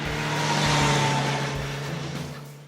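A loud MV Agusta Brutale 1090RR motorcycle engine revs up and holds a strong, steady roar, close by, easing off slightly at the end.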